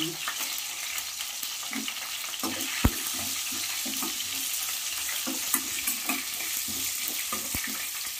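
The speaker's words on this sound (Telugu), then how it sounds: "జీర, పచ్చిపప్పు, ఎండుమిరపకాయలు బాగా వేగాలి." Cumin seeds, chana dal and dried red chillies fry in hot oil in a pan for a South Indian vankaya pachi pulusu, giving a steady close sizzle broken by light stirring scrapes and a few sharp pops.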